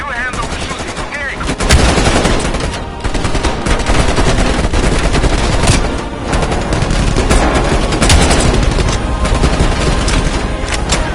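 Heavy helicopter-mounted gunfire in a Call of Duty: Black Ops Cold War campaign mission on PS5, dense sustained bursts with booming impacts filling the whole stretch, while someone shouts briefly over the din.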